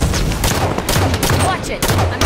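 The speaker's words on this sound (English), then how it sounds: "Top mid is under fire!" Rapid bursts of automatic gunfire and sharp shots in a Halo 5 Guardians ranked slayer match, loud and close, firing in clustered volleys across the whole moment with brief gaps between bursts.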